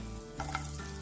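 Garlic and ginger sizzle as they hit hot ghee in a pan, a sharp burst of frying followed by a steady crackle, close and alone with a brief stir.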